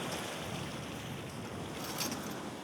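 Sea waves wash steadily at night at Port Dickson during crab fishing, with strong wind rushing across the microphone; the water noise is continuous and fairly loud, with no talk.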